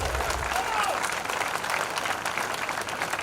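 An audience at a college orientation programme in Hyderabad applauds, a dense, steady burst of many hands clapping that carries through the whole moment.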